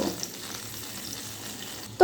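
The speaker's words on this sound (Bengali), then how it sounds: "উল্টে দিয়ে এই দিকটাও একটু ভালো করে ভেজে নেব" Pointed gourd (potol) frying in oil in a pan makes a steady, fairly quiet sizzle throughout, ending with a brief knock at the close.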